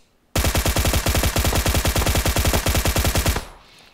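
Suppressed M762 Beryl assault rifle in a shooter video game fires one continuous full-auto burst of about three seconds, rapid even loud shots close up, then a short tail fading out.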